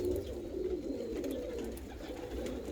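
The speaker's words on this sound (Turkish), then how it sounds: "Çok kaliteli, çok güzel kuşlar arkadaşlar." English-breed pigeons cooing in a loft, a low continuous rolling coo close by, with no talking.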